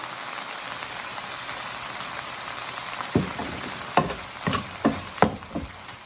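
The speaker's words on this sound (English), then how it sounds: "Sweat the onions out, so to speak." Onions sweating in a pan with salt and pepper, a steady soft sizzle running throughout, joined in the second half by several sharp stirring scrapes and clatters up close.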